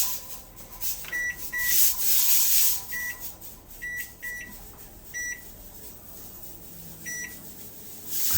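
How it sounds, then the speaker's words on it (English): A pressure canner's weight rocks and rattles on the stovetop while leftover soup and chili are processed, giving repeated short metallic chattering bursts and hissing releases at irregular intervals, close and fairly loud, with no talking. "See the weight spinning, and it'll rattle to relieve pressure as it needs it."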